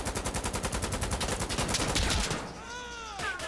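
Rapid automatic gunfire from a magazine dump in Insurgency, a loud, steady burst of evenly spaced shots for about two seconds, then a quieter stretch with a faint tonal sound.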